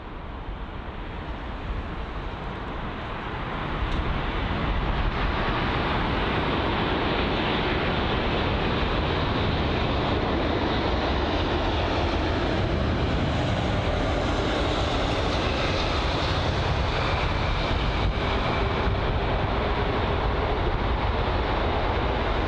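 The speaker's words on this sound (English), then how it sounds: "next up, the American Airlines Boeing 777-200 from Charlotte on its 7-hour and 6-minute long journey" An American Airlines Boeing 777-200 airliner at London Heathrow produces a broad jet roar that swells after a few seconds and then holds loud and steady, with no voices over it.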